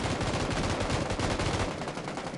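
Sustained automatic gunfire in PUBG on PS4 fills the clip as dense, rapid, loud bursts that keep going with no pauses, with no speech over them.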